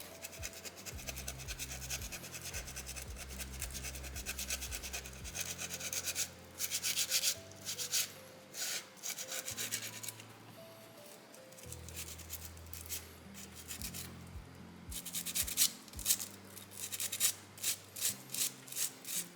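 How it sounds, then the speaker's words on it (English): Folded sandpaper is rubbed over a small soapstone owl carving, producing close, quiet scratchy strokes in uneven repeated bursts, steady at first and growing more rhythmic toward the end. "I'll manipulate this sandpaper a whole bunch to use that grit as much as possible"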